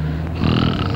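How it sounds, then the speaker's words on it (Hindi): A person snoring up close, a low rasping snore that swells and rumbles through the second half of a brief moment, with no talk over it. "पर खर्राटे अच्छे नहीं है"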